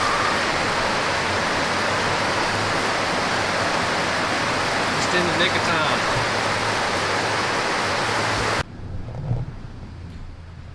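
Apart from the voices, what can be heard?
heavy rain outside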